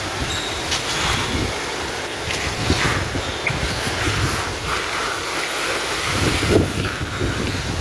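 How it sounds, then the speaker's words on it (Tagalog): Gusty wind roars across the microphone in a broad, rushing noise, swelling and buffeting in bursts throughout. "Ay, ang hangin."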